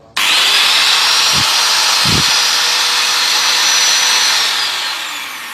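An Enzo 680 W rotary hammer drill rated at 12,000 rpm runs loud and steady for about five seconds with a high whine, starting abruptly and easing slightly at the end, with two brief low thumps early on.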